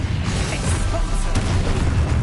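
An Expulso spell explosion in the video game Hogwarts Legacy, a loud, dense, rumbling blast that fills the whole moment with heavy low-end roar and crackle.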